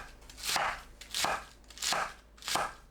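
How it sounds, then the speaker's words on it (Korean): A knife slices cabbage into 1 cm thick pieces on a board, with four evenly spaced crisp, crunchy cuts, close and clear, and no talking. "양배추를 1cm 두께로 썰어주세요."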